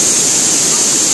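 Twin Waterfalls in Bohol, Philippines, a steady loud rush of falling water filling the air with constant broadband hiss and no pauses.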